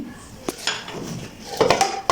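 Pieces of fried eggplant are served onto a plate at a home meal, with a few sharp clinks and clatters of a serving spoon against dishes spread over a quiet background.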